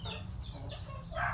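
A chicken with phlegm in its throat makes a rattling, wheezy snore with thin squeaky notes, faint and close, without talking.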